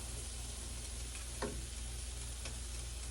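French toast frying in a pan on a stovetop, a steady low sizzle running throughout with a couple of brief soft clicks or scrapes near the middle and end, no talking.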